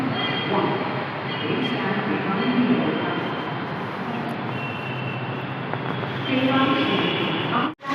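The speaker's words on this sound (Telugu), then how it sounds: "కేరళలో కొచ్చి మెట్రో అని చెప్పి పిలుస్తారు ఫ్రెండ్స్" A Kochi Metro train in Kerala runs with a steady rumbling roar and a high electric whine inside the car, continuous for several seconds before a sudden cut at the end.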